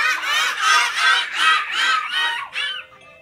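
A classroom of young children imitates a parrot together as a cheer, a run of loud, shrill squawking calls in quick rhythmic bursts, ending with a short trailing cry.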